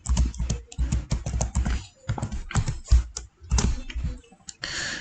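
A Wi-Fi password is typed on a computer keyboard in bursts of close, distinct key clicks, separated by short pauses.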